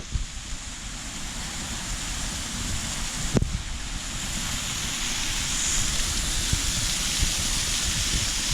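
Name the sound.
small waterfall beside the road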